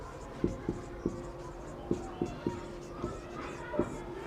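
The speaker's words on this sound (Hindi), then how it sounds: "इसको ऊपर हम लिख देते हैं," Writing on a board during a biology lesson, heard as about ten short, crisp strokes at an irregular pace, moderately close, over a faint room hum.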